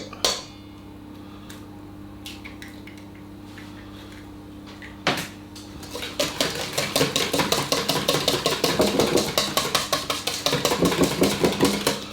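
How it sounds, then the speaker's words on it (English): Chocolate sponge batter being whisked by hand in a bowl: a few isolated knocks, then a rapid, steady run of close rhythmic whisk strokes that continues to the end. "But I may change to a whisk."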